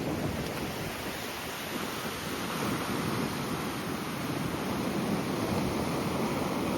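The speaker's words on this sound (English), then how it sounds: "It has started to rain," Steady rain falls in Acadia National Park on an off-season trip, a dense, even hiss that stays constant throughout with no voices.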